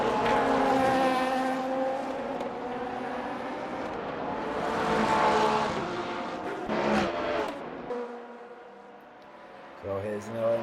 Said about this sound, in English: So here's an LMP2 out of the pit lane.